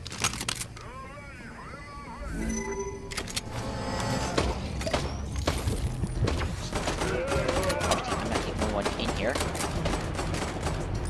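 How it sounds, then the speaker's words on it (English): Rapid-fire SMG gunfire in a video game, loud dense bursts of shots packed over game sound effects and a steady background din, with some talking mixed in. "Give me that rapid fire SMG"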